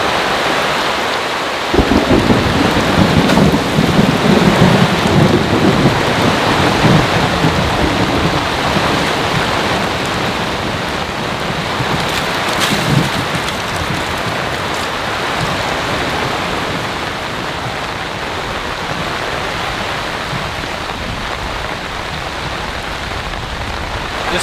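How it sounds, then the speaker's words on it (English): Heavy rain pours steadily during a powerful storm at a flooded tarp campsite, a dense continuous hiss with a brief low rumble early on and a faint sharp crack midway, no voices. "It's still raining quite hard out there, but it's not as heavy as it was before."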